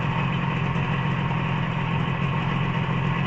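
A Motobécane 125 LT3 motorcycle idles steadily after carburettor cleaning and synchronisation, a close, even, low-pitched putter that holds constant throughout with no talk.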